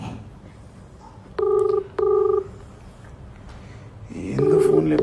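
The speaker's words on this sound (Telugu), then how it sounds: "ఎందుకు ఫోన్ లేపుతలేదు?" An unanswered phone call rings out as electronic tone bursts: two short rings close together, a pause, then a longer ring at the end, loud and near.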